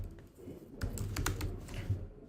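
Rapid keystrokes on a computer keyboard during coding, a brisk irregular run of clicks close to the mic with no talking.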